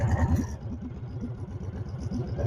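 Engine of a Honda CB750 single cam turbo motorcycle roaring steadily as the rear tire spins on dirt, a loud close rumble with rapid pulsing clatter throughout.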